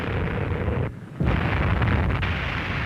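A heavy, sustained explosion rumbles through a naval fleet centred on the aircraft carrier Saratoga, briefly dropping away before a second loud, roaring blast surge that carries on to the end.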